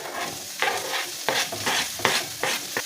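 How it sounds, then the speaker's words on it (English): Garlic and carrots fry in a couple tablespoons of oil with chopped onion, a steady close sizzle broken by several sharp crackling bursts as the pan is stirred. "And we are gonna let them fry."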